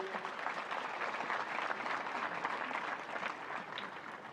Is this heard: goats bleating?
no